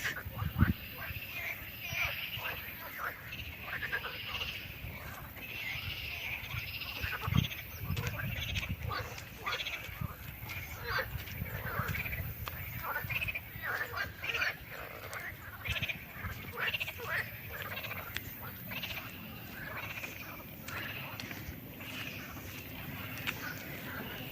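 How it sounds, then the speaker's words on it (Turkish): Outdoor campsite ambience in Tekirdağ, Turkey, with a steady chorus of croaking frogs, dense and continuous, with occasional louder knocks and a few voices in the background. "Kurbağaların sesini duyuyor musunuz?"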